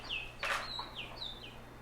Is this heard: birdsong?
yes